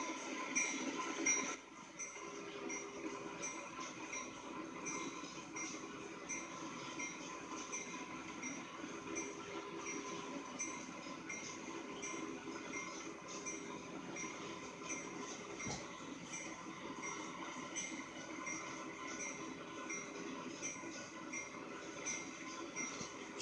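Steady rumble of idling CSX locomotives in a busy rail yard in a train simulator game, with a continuous mechanical hum and faint metallic clanks, filling the space at a constant level without voices.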